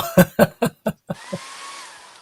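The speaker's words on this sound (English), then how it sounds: "I'm using the hotel hair dryer to dry my card." After a few short rhythmic knocks, a cheap Conair hotel hair dryer switches on and blows with a steady airy whir and faint whine.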